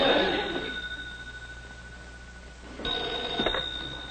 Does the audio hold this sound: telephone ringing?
yes